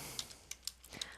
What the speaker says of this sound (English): So we want to type in African